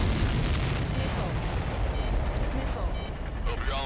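Rumbling explosions boom continuously in the Ace Combat 7 video game, dense and loud with layered bursts, while radio-style voices talk over them.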